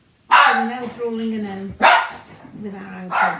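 A dog barks loudly indoors in a few sharp bursts, mixed in with a voice talking through an exercise class.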